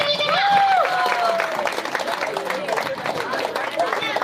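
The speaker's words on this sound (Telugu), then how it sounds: "క్లాప్స్ కొట్టండి." Students at a junior college get-together clap and cheer, a dense patter of applause amid crowd noise, heard under a loud voice talking over it.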